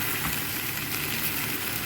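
Soaked poha is gently stirred into a frying potato and onion mixture in a pan, giving a steady, soft sizzle with faint scraping and no talking.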